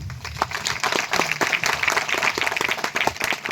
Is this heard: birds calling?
no